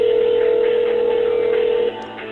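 A telephone ringback tone sounds during a call placed at a lottery final: one steady, loud tone that runs continuously for almost two seconds and then abruptly drops away near the end.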